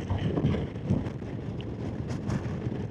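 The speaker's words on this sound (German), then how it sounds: "und es wird wieder windig" Steady outdoor wind buffeting the microphone while riding a motorcycle near Frankfurt Airport, with low rumbling gusts around the first second, continuing as a constant blustery roar.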